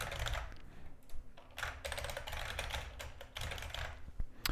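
Rapid keystrokes on a computer keyboard while entering code for the TIS-100 puzzle game, a steady close clatter with short pauses and no talking.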